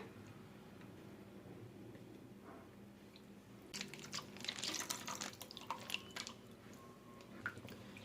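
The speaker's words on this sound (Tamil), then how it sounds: "அந்த ஸ்டேஜில் பால் சேர்த்துக்கலாம். பால் சேர்த்துக்கிறேன்." Milk is poured into a bubbling butter and flour roux for a vegetarian lasagna, bringing a quiet, wet sizzling and squelching partway through that follows a faint background hum.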